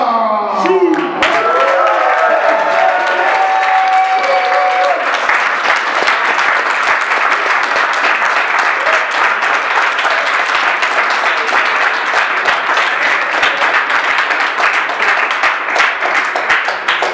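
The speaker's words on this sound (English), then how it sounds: "Make some noise! Applause!" Crowd at a weighted calisthenics competition in Zürich breaks into loud, sustained applause with cheering and whoops, swelling after a brief announcer voice at the start and holding steady, dense clapping throughout.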